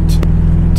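A car engine in a driving game sputters under engine braking at low revs, a loud steady low drone broken by brief crackling pops, heard alone.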